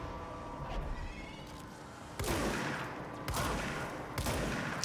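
Gunfire from the player's weapon in the Control video game, a few loud broadband bursts at about two, three and four seconds over a busy game soundscape.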